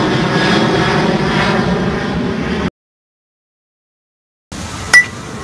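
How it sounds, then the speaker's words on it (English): A fixed-wing propeller airplane passes overhead, a loud steady engine drone that cuts off abruptly partway through, then resumes with a brief clink over the engine noise. "let this other airplane go by"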